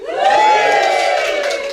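A large crowd at a real estate event lets out a loud, sustained cheer with whoops and raised voices, close and continuous for under two seconds.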